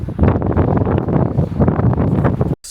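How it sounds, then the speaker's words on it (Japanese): Strong gusting wind at Karatsu, Saga, buffets the microphone in a loud, continuous low roar, cutting out abruptly just before the end. "想像の10倍くらい風が強くてね、帽子が吹っ飛びそうでびっくりしました"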